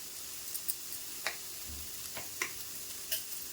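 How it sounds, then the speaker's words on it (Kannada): Broccoli pepper fry sizzles softly in a pan, a faint, steady hiss punctuated by a scattering of light ticks and clicks from stirring. "ಹಾಕ್ಬಿಟ್ಟು ಇದನ್ನು ಫೈವ್ ಮಿನಿಟ್ಸ್ ಫ್ರೈ ಮಾಡ್ಕೊಳ್ಳೋಣ"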